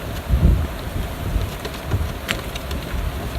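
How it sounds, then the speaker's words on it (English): A strong gale blows at a beach and roars steadily as dense, close noise with gusty low-end buffeting, with no voices. "Wind is absolutely crazy now, it's blowing a gale."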